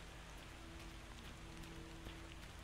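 Steady rain in the video game Daymare: 1998 patters on a surface, soft and continuous, with scattered individual drops ticking through the hiss.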